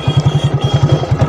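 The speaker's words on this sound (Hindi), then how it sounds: "ट्यूनिंग करने के लिए सबसे पहले इंजन को गर्म कर लें।" A motorcycle engine idles steadily while warming up before carburettor tuning, a close, loud, even low thumping pulse repeating about every tenth of a second with no talk over it.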